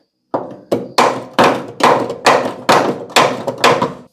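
Eight heavy hammer blows on a car's front suspension control arm, steady and evenly spaced, each a solid ringing thunk, close and loud.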